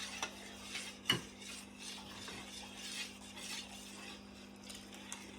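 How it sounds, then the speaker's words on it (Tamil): Beaten eggs mixed into a strained wattalapam mixture in a bowl, with quiet rhythmic stirring, soft swishes and a few light clinks of a utensil against the bowl, close and faint. "நான் அடித்து வச்ச முட்டை எல்லாத்தையும் இதோட மிக்ஸ் பண்ணுறேன்"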